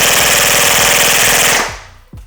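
A Zion Arms R15 airsoft AEG fires on full auto, a loud, close, rapid mechanical buzz of shots lasting about a second and a half, then a short pause and a single sharp click.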